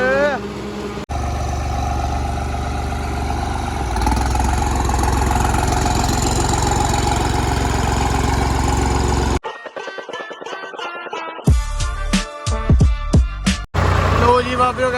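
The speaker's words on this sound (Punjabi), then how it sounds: "ਅਰਮਾਨ ਕਹਿੰਦਾ ਮੈਂ ਚਲਾਉਣਾ ਕਹਿੰਦਾ ਟਰੈਕਟਰ" A tractor engine runs with a steady, loud, low rumble for several seconds, then drops away as music and voices take over.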